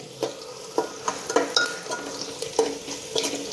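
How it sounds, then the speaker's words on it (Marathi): Garlic paste sizzles in a hot pan for a homemade veg biryani while a spoon stirs and scrapes it in a few distinct, evenly spaced strokes over a soft, continuous frying hiss. "ती पण अशी मिक्स करून घ्यायचे चांगली अशी लाल होईपर्यंत तळून घ्यायचे"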